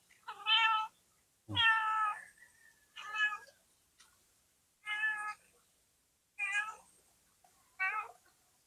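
A kitten meowing repeatedly, six or seven clear, high-pitched calls spaced about a second apart, close to the microphone in an otherwise quiet setting.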